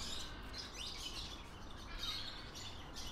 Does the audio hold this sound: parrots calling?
yes